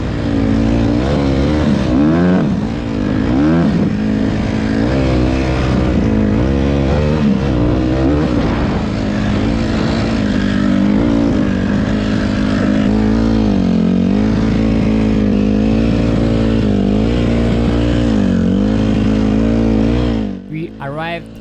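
Dirt bikes, a Honda CRF150R and a KTM 125, ride a sand trail, their engines droning loud and close with rising and falling revs throughout, cutting off near the end.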